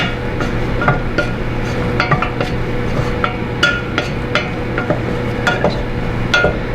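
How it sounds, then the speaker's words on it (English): A steady sizzling hiss as choux dough for herbed gougères cooks in a pan, punctuated by frequent sharp clicks and scrapes of a spoon stirring and knocking against the pan. "There, I'm hearing a little bit of a sizzle."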